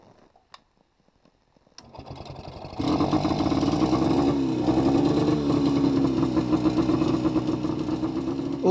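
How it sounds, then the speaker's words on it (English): A Panther motorcycle with a Villiers engine, model 35ES, loaded with camping gear, starts up after a few faint clicks and settles into a steady, rhythmic single-cylinder putter, close and fairly loud, continuing unbroken. "the engine pulls well, barely troubled by the extra weight"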